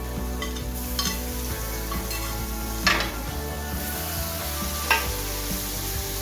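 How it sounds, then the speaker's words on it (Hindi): Onion, garlic, ginger and tomato masala frying for chicken keema, a steady loud sizzle with occasional clinks of a spoon stirring against the pan. "अब हम इसमें ऐड करते हैं लहसुन 1 टेबलस्पून, 1 टेबलस्पून अदरक, 1 छोटे साइज का टमाटर।"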